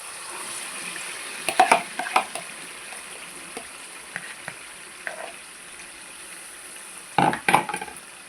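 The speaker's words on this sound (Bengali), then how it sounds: "এবার আমি এর মধ্যে চিকেনগুলো দিয়ে দেবো।" Chicken pieces are dropped into a pan of cooked-down masala for chicken rezala and stirred, giving a low, steady sizzle with a few loud, brief splatters and scrapes early on and again near the end.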